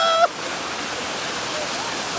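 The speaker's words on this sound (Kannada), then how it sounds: "ಹಿಂಗೆ ಐತೆ ನೋಡ್ರಿ ವಾಟರ್ ಫಾಲ್ಸ್" A waterfall roars as a steady, broad rushing wash that sets in after a brief electronic tone at the start and then holds constant and fairly loud.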